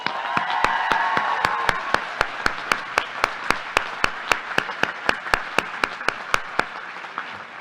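An audience at the 2022 UConn Law commencement ceremony breaks into applause, a dense wash of clapping that swells and then settles into slower, sparser, rhythmic claps before fading out.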